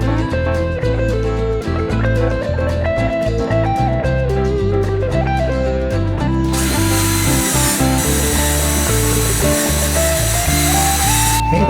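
A power tool drives bolts while a front bumper is installed on a Suzuki Samurai, a loud continuous whirring with changing pitch and a sharper, brighter burst partway through.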